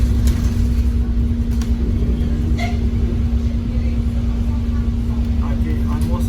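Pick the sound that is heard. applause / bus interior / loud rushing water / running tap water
bus interior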